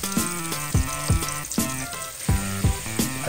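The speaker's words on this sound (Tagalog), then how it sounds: "Susunod ko na po ang ating pinalambot po na karneng baka" Softened, tenderised beef sizzles in a pan with onion, garlic and ginger. A steady close hiss is punctuated by roughly eight sharp spatula scrapes and knocks in a loose rhythm, with no talk.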